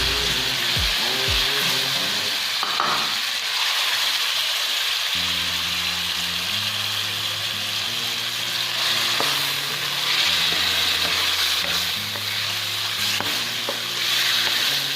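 Chicken pieces frying in a karahi for white chicken karahi, a steady broadband sizzle running throughout with scraping stirring strokes and a low tonal hum underneath; no talking.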